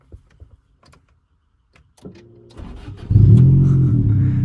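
A 1995 Honda Del Sol with a big turbo build push-started: faint clicks and thuds, then the engine catches with a rough, loud idle that settles into a steady nearby drone.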